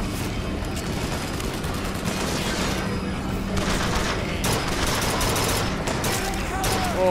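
Gunfire in Bioshock Infinite: steady bursts of weapon shots run through the whole stretch with clattering effects and a dense game score, moderately loud, with no voices over it.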